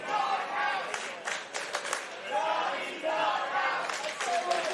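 A wrestling crowd at the WrestleCon Mark Hitchcock Memorial Supershow chants in loud, rising and falling waves, with bursts of shouting filling the arena continuously.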